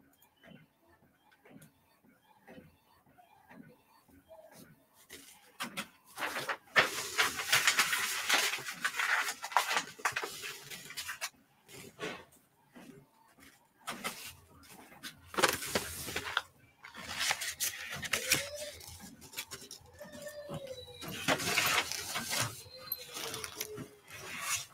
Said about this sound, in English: on premium matte, this particular printer prints slow